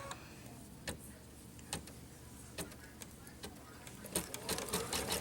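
An embroidery sewing machine lays down a placement stitch for a mug rug, running quietly with soft ticking and periodic sharp clicks, heard fairly faint and without talk.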